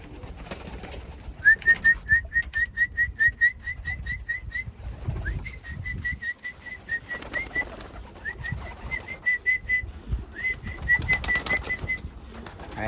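Returning homing pigeon at its loft gives repeated high whistling calls in bursts, close by, with soft wing flutters and handling noises in between.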